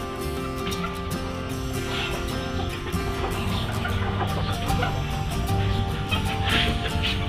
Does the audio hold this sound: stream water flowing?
no